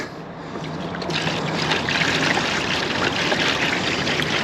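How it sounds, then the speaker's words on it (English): Sugar water poured into a bee feeder while checking a relocated honeybee swarm, a steady close-up splashing trickle that swells slightly and runs on without a break. "Fill this thing up with sugar water that I had mixed up just quickly"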